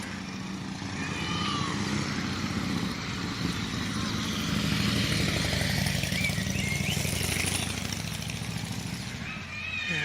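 A motorcycle ride beside a quiet seaside town on a weekday, with a loud steady engine drone and rushing wind throughout, engine pitch shifting slightly as it goes.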